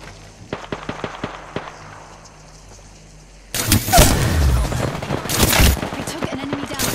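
Video-game gunfire: sharp isolated shots crack early on, then dense bursts of automatic fire erupt and rattle loudly and close for several seconds, with voices talking over the firefight.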